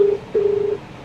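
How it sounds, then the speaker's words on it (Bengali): A phone rings through the speaker box of a cheap second-hand car, two steady electronic tone pulses, the second longer, sounding close and fairly loud with no speech. "এই যে দেখুন রিং হচ্ছে"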